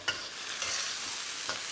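Prawns are stirred and folded through boiling spicy stock in a Malaysian shrimp dish, giving a soft, continuous bubbling sizzle with a few light scraping strokes, close and fairly quiet.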